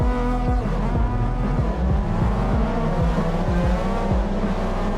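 Race car engines roar continuously with rising and falling revs and gear shifts, loud and close, in an Assetto Corsa EVO replay with several cars racing, tires adding squeal, no talking.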